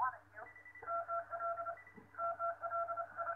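An electronic Mickey Mouse baby toy with a spinning propeller plays beeping tones and a short melody in repeated bursts, faint and close up with no talking.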